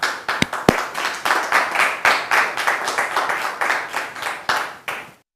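A group claps in rhythmic unison, steady repeated bursts of applause close by, with a few sharp louder claps early, ending abruptly.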